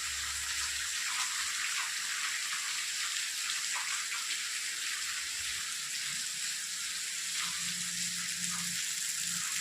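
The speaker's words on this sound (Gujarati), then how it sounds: "જોરદાર વરસાદ આવે છે" Heavy rain pours down in a village as a steady, dense hiss with scattered nearby drips, even in loudness throughout and with no voices.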